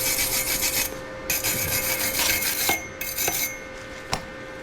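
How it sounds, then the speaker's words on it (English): Rasping, rubbing clean-up of flux core tack welds on a steel edging shovel blade, a steady scraping grind in several bursts with short pauses and a few sharp metallic ticks, close and fairly loud. "we can clean off the area that we've just welded, because those are just tack welds and this is flux core welding"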